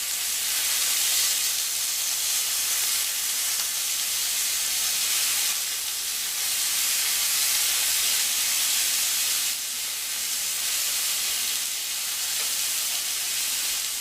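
Kangaroo steak sears in a hot pan with a steady, bright hissing sizzle that swells and eases slightly, close up and uninterrupted by voices.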